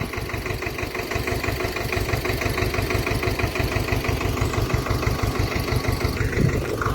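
A tractor engine idles steadily while its trailer load is being unloaded, giving a loud, close, rhythmic diesel chug with a constant knocking beat throughout.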